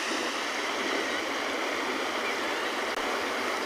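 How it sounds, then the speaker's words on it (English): Steady, dense rush of ocean surf on the South African coast with a constant roar and no breaks, close and loud, without any voices. "Of course, the sound of the ocean."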